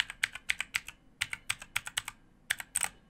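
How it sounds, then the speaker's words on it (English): Rapid, uneven clacking of computer keyboard keys pressed one after another in quick bursts, close and clear with no talking, as if someone is trying key after key to find a game's controls. "I'm pressing every single button on the keyboard"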